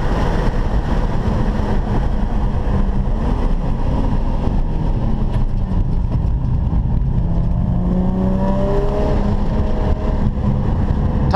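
Small V6 car engine pulling hard on a race track at a track-day session, a loud continuous in-car drone with rising harmonic sweeps as it accelerates through the gears, steady throughout.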